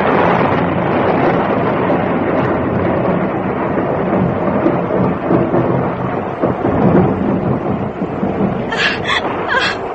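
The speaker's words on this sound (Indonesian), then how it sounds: "Dia hanya melihat air hujan tumpah ruah ke permukaan bumi." Heavy rain pours down in a dense, steady roar, loud and close, with deep thunder rumbling through it for the whole stretch.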